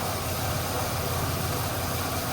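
A 2005 Chevy Equinox engine idles steadily after a purge solenoid replacement, with a constant low hum and broadband noise, no talking.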